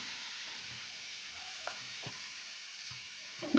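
Chopped, salted bilimbi cooking in pickle masala in a pan for bilimbi pickle, giving a quiet, steady low sizzle with a few soft knocks of a spoon near the end.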